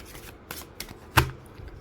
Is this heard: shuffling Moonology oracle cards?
yes